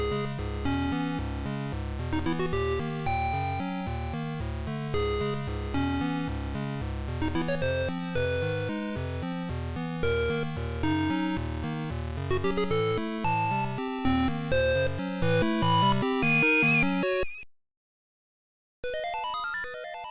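Game Boy chiptune music from the introduction sequence of Zelda: Link's Awakening, in which Link is shipwrecked, plays steadily and loudly with bright square-wave melody and bass, then cuts to a brief silence before resuming faintly.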